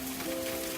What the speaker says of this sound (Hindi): बाहर बारिश बढ़ती जा रही थी और बारिश घर के अंदर तक आ रही थी।